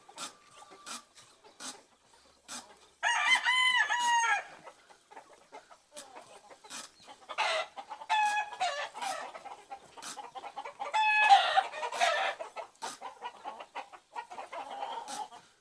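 Roosters in a cockfighting rooster pen cluck and let out crowing calls in bursts, interspersed with sharp clicks and quiet gaps, fairly close.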